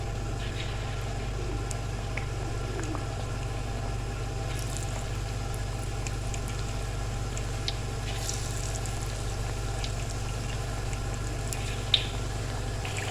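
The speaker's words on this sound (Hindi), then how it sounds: "अब बारी है आलू फ्राई करने की" Soaked potatoes sizzle steadily as they deep-fry in hot oil, a continuous crackling hiss with scattered pops over a low, constant hum.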